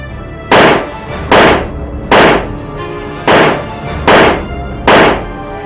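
Six loud gunshots fired into the air by criminals ring out at a steady pace, each a sharp crack with a short decaying echo, close and alone with no voices.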